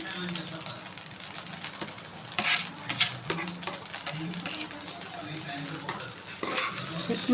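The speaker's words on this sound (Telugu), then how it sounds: "మొత్తం మంచిగా కలుపుకోవాలి." Egg fried rice with coriander is stirred in a hot sizzling pan, with a constant frying hiss, scattered scrapes and clinks of the spoon against the metal, and a voice speaking at times.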